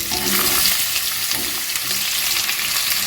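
Pieces of potato and pumpkin fry in hot tempered oil, a loud, dense crackling sizzle that runs continuously with light stirring scrapes mixed in and no talking.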